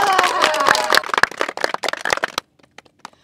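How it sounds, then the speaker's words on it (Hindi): Crowd clapping and cheering greet a village cricket team arriving at a rural match, dense and loud at first with a voice over it, then thinning to scattered claps that fade out after about two and a half seconds. "तो इनके लिए एक बार जोरदार तालियां हो जाए"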